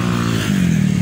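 Suzuki TL1000S motorcycle with a twin exhaust, its engine idling close by in a low throbbing rumble that shifts slightly in pitch midway through the short burst.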